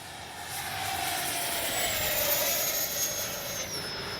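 A Freewing 90mm Zeus RC jet with a ducted fan flies past at full speed into the wind, a loud continuous whine and rushing roar that rises and shifts in pitch as it passes.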